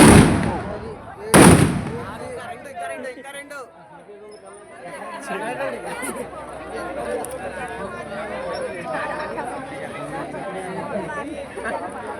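Two sharp firecracker bangs go off early at a New Year's celebration, followed by a crowd chattering and calling out in the background.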